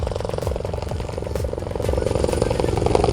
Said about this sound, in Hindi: देखिए मैं तस्वीरों के जरिए दिखाना चाह रहा हूँ कि हेलीकॉप्टर पहुँच रहा है